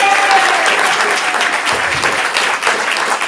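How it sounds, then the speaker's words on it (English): A comedy club audience at a stand-up student showcase claps steadily, a full round of applause with some scattered crowd noise mixed in. "give Patty a round of applause"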